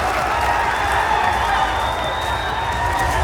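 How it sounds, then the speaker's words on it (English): A large crowd at the EVO 2015 Ultra Street Fighter IV top-eight match roars and cheers steadily, a loud continuous wash of voices and applause with a commentator talking over it. "The crowd getting hype"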